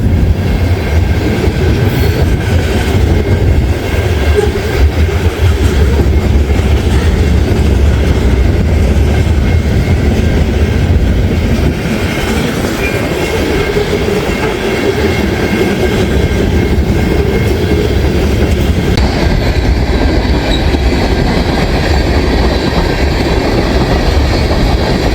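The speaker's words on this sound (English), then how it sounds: "So we got a eastbound manifest train here on the BNSF Aurora subdivision." A BNSF eastbound manifest freight train with tank cars rolls past on the Aurora subdivision at Rochelle, Illinois; loud, continuous rumble and rhythmic wheel clatter with faint squeals, close and steady throughout, no voices.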